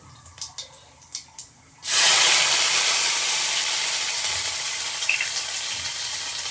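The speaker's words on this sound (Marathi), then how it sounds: "जिरे तडतडले" A few soft knocks, then a sudden loud burst of hissing sizzle as cumin seeds hit hot oil, crackling on steadily and slowly easing.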